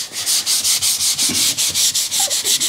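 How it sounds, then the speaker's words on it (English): Rhythmic hand sanding of car lacquer with 3000 grit paper on an E46 BMW 330Ci, close and steady, with about a dozen even back-and-forth strokes and no talking. "And that barely feels like you're sanding."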